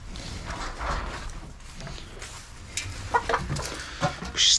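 A farmyard chicken clucks in short bursts among other farm sounds on a Turkish sheep farm during barley sowing and lambing season, with a louder squawk close by at the end.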